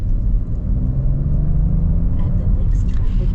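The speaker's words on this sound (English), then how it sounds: "You can definitely hear the supercharger just a little bit. Definitely cool hearing the inline six as well." A 2021 Jaguar F-Pace S with a supercharged inline-six engine, heard as a steady low rumbling drone close by, with a faint whir above it and no distinct revs.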